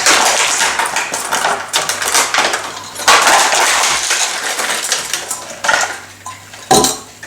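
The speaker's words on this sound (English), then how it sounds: "personally I think I'm going to have a go with the Stanley knife. Good old fashioned tool. You cut down there." A Stanley knife hacks and saws open moulded plastic product packaging, close and loud, with crackling, scraping and clattering bursts and a few sharp snaps.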